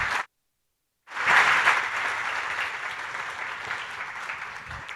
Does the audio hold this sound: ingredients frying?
no